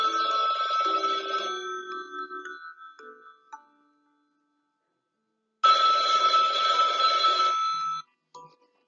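A telephone rings in two long trilling bursts separated by a few seconds of silence, clear and close, with nothing else heard.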